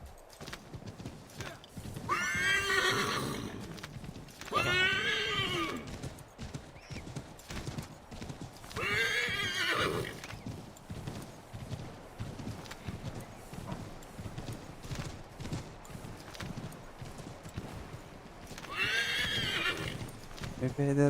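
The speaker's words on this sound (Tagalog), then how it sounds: "Batak na batak yung kabayo." A horse gallops and neighs in the video game Assassin's Creed III Remastered, with loud, near whinnies coming in bursts over a steady run of hoofbeats while someone talks over the action.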